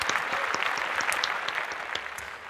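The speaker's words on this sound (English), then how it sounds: "So a little bit of applause." A small audience applauds steadily, a dense patter of claps at moderate volume throughout.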